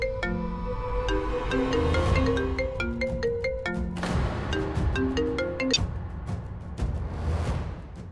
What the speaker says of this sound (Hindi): प्रतीक जी, किसका फोन था?